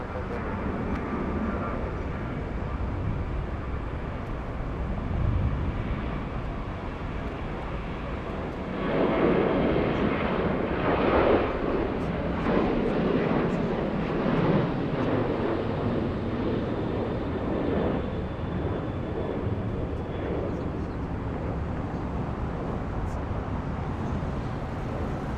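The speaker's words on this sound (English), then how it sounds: "It's the flight from Haneda. It's the A350. There it is. Big one." An Airbus A350 airliner arriving from Haneda at Atlanta airport, a steady broad jet engine roar that swells in the middle as the aircraft passes, with wind and a voice talking over it.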